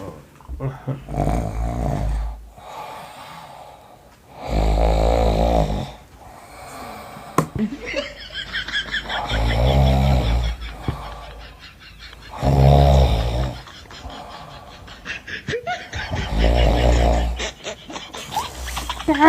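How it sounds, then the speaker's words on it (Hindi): A man snoring loudly while lying in bed, with deep rasping snores repeating every few seconds, each long and rumbling, between stretches of someone talking nearby. "और इस बार से खर्राटा मत लेना।"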